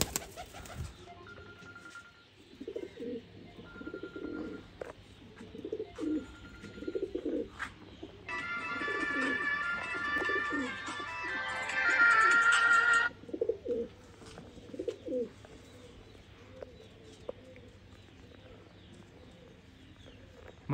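Breeder pigeons coo in repeated soft, throaty phrases close by, with a brief burst of hissy noise partway through and the cooing resuming afterward.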